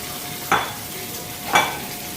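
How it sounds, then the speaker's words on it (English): Rice being coated in a little oil in a pan sizzles steadily, with two scraping stirs about a second apart rising above the frying hiss. "a little bit of oil to throw in there, because I use that to coat the rice. So I'm going to put in 3 cups of rice."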